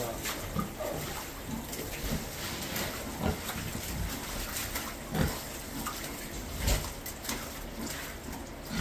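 Water sloshes and splashes in uneven bursts as a pig pushes on a water tub to spill it, with a few soft grunting snorts nearby under a faint background hiss.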